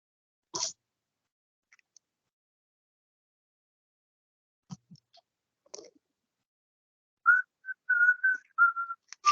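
A short whistled tune near the end of an online lecture call, a few wavering notes after scattered faint clicks and rustles in otherwise near silence.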